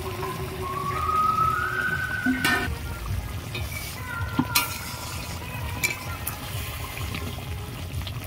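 Koi fish cooking in a gravy of onion and tomato, with a steady sizzle and bubbling throughout, broken by a few sharp clinks and scrapes of a utensil stirring in the pan.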